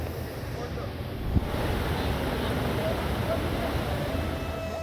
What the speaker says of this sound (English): roar of water breaks the silence of the forest canopy.